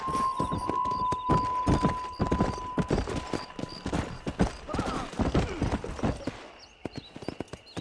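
Horse hooves galloping in the Western game Red Dead Redemption, a quick steady clip-clop rhythm running close and loud throughout, with a thin sustained tone in the first half.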